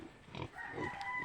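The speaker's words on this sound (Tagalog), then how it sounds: "malulusog na baboy." Healthy pigs on a small farm give a few soft, low grunts close by, faint and brief against quiet rural background noise.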